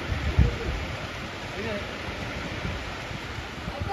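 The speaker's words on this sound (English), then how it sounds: "Started raining, but it's really heavy." A heavy tropical downpour on Siargao island in the Philippines hisses as a constant broadband wash, close and enveloping, with a brief low thump near the start.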